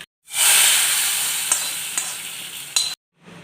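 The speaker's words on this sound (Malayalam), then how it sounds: "വെളുത്തുള്ളിയെല്ലാം നല്ലതുപോലെ മൂത്ത് വന്നിട്ടുണ്ട് ഇനി നമുക്കിത് കറിയിലേക്ക് ഒഴിച്ചു കൊടുക്കാം" Fried garlic tempering is poured into a jackfruit-stem curry, setting off a loud, close burst of sizzling and steam hiss that fades gradually over about two and a half seconds, with a few soft clinks before it cuts off.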